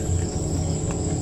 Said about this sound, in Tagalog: Sa sobrang tahimik ng lugar, ang maririnig mo lang dito ay ang mga kuliglig.